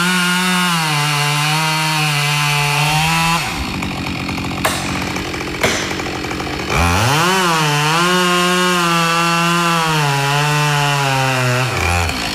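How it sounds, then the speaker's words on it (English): Husqvarna chainsaw cutting wood in wet Australian conditions, a loud steady engine whine that drops as the blade bites into the timber, then revs back up and holds a high roaring pitch. "when he's operating a chainsaw in Australia"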